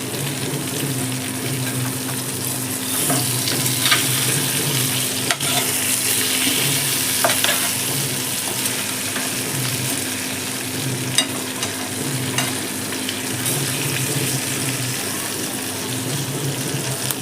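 Tandoori chicken pieces fry in a pan, a continuous sizzling hiss with occasional stirring scrapes and clicks as the pieces are turned, close and steady throughout.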